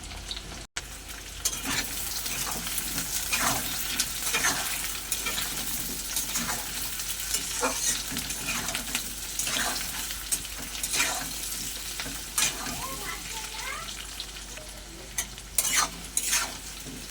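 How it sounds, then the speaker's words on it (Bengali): Potato pieces fry in hot oil with a steady, close sizzle, broken by repeated scraping stirs of a spatula in the pan; no voices. "আলুগুলো আমি একটু ভাজা ভাজা করে নিয়েছি"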